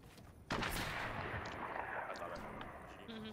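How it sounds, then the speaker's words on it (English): Fortnite heavy sniper rifle fires a single loud, sharp blast that rolls into a long booming echo and decays under lingering game noise; a voice speaks faintly in the background. "Heavy sniper."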